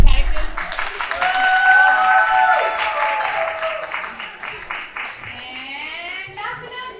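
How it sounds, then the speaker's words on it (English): Audience applause fills a theatre festival hall, a broad crowd of clapping that is loud at first and tapers off, with children's voices and a brief tonal sound mixed in. "you guys can clap for our exiting Mr. Men characters"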